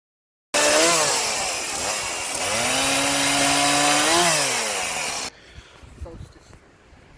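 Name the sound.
chainsaw cutting logs in the wood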